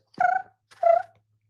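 A pet cat makes two short, throaty, nasal calls in place of a meow, close and fairly loud, separated by a brief pause.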